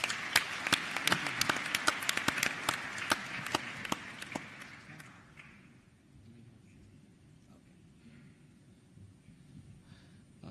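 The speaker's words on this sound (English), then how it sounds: "Let's give him a round of applause." A conference audience at the Africa Youth Connekt Summit applauds the panel moderator, a burst of sharp claps for about five seconds that quickly thins and fades into quiet room noise.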